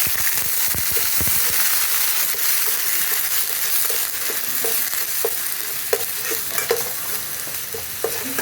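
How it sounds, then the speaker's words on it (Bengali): Ground coconut paste fries in hot oil with a steady, close hiss, joined by scraping stirs and scattered sharp pops, with no one talking. "একটু ভাজা ভাজা করে নেবো নারকেলটা।"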